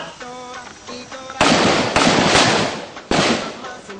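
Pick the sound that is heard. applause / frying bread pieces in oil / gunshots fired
gunshots fired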